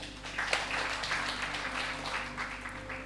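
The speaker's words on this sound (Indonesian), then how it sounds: "Tepuk tangan bagi dia." Steady applause from a congregation during a church service, moderately loud and sustained for the whole stretch over a constant low hum of the hall's sound system.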